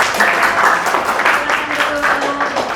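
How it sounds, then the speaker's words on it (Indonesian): Classroom applause for a student group in a teaching session: steady, dense clapping from many hands, fairly close, running evenly throughout with faint voices mixed in. "kita beri tepuk tangan untuk kelompok"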